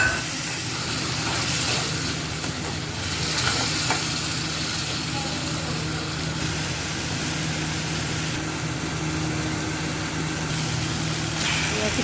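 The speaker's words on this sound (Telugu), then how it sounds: "అల్లం వెల్లుల్లి టమాటా పేస్ట్ వేసుకొని 5 మినిట్స్ ఫ్రై చేయాలి" Ginger garlic tomato paste frying in a pan for an Andhra-style chicken curry, a dense continuous sizzle with stirring throughout, loud and close with no pauses.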